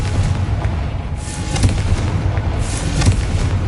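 A Confringo blasting spell in the Hogwarts Legacy video game sets off rolling explosive booms. Two or three heavy blasts stand out over dense, crackling rumble that carries on throughout.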